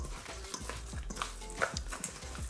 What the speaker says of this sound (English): with clean hands, we're gonna give that a nice mix and just knead that for about 3 minutes